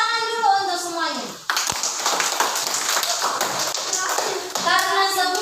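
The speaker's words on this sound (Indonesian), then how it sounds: "Tepuk tangan dulu untuk semuanya." Children clapping hands together in a classroom, a dense burst of claps between a teacher's voice before and after, with kids' voices mixed in.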